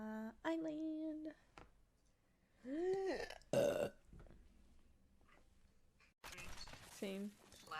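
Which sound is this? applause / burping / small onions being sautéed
burping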